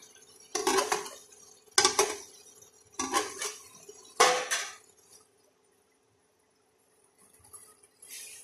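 Metal cookware clanks as a lid is set over a cooking pot in a home kitchen: four separate ringing knocks at roughly one-second intervals, close and fairly loud, followed by near silence.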